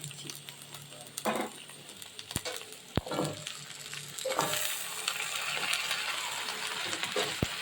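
Chopped amaranth greens dropped into a hot pan of frying eggplant, taro and potato, then stirred; soft sizzling builds under scattered scrapes and a couple of sharp clinks of the utensil against the pan.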